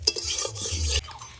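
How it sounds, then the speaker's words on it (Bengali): Rice frying in a pan for a fish-head muri ghonto is stirred with a spatula, making close scraping and clattering strokes over a faint sizzle for about a second, with no voices. "চালের গাগুলো যখন সাদা সাদা হয়ে আসবে তখন বুঝবো যে আমাদের এই চালটা ভাজা হয়ে গেছে।"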